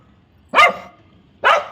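A dog gives two loud, close barks about a second apart, each short and sharp against a quiet background, with no talk.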